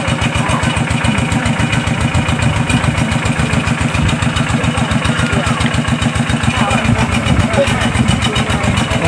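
A water pump engine draining a fish pond chugs in a fast, steady rhythmic putter close by, loud and unbroken, with someone talking over it.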